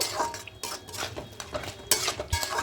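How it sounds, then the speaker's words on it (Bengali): A spoon stirs sour yogurt into onion-free tomato chicken in a pan, with quick repeated scrapes and clinks of metal against the pan at close range. "এখানে তিন চামচ মতো টক দই অ্যাড করলাম এবার খুব ভালো করে মিশিয়ে নেব"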